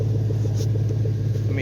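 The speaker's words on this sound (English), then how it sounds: "This truck sounds very nice." A truck engine rumbles low and steady from behind, a deep throbbing idle heard close with faint pulsing, a soft voice murmuring over it.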